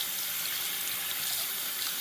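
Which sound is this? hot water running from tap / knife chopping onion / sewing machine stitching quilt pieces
hot water running from tap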